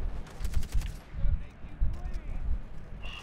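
Bursts of gunfire from the video game Far Cry 3 crackle in rapid clusters through most of the moment, loud and close, with someone talking over the shooting.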